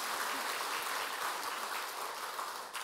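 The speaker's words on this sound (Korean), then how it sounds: "우리 박수로 환영하도록" A church congregation at a Sunday service claps in steady applause to welcome invited guests, a dense patter that fades slightly toward the end.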